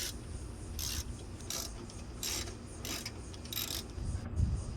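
A ratchet wrench loosens bolts on the AC condenser of a Toyota Tacoma, sounding as repeated short ratcheting bursts in an uneven rhythm, close and moderately loud, with light metallic handling between strokes.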